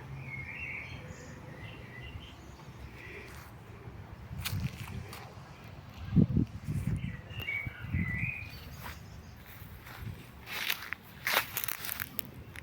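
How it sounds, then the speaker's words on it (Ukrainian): Songbirds chirp in short, scattered calls on a Kraków street, faint and somewhat distant against low background noise and a few nearby rustles and footsteps. "Ну і співучі птахи"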